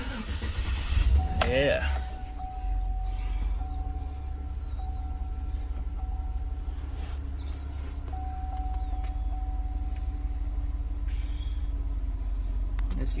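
A Chevy/GMC 5.3L V8 with a faulty engine control module cranks briefly and catches, then settles into a steady low idle rumble, with a person speaking over it.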